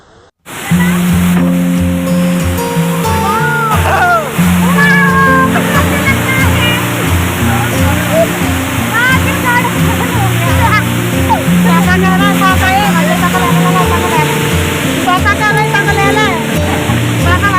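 A waterfall on the Sindh river roars as a steady, loud rush of water, heard from a passing boat, with honking calls and voices of people on board over the continuous wash.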